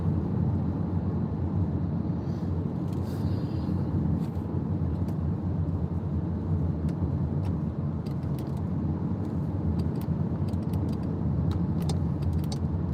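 A car drives in traffic, heard from inside as a constant, loud low road and engine rumble with occasional faint clicks and rattles over about thirteen seconds, with no talk.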